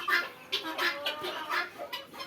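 European coturnix quails on a farm give a run of short, repeated clucking calls at close range in quick, uneven bursts, with no voices.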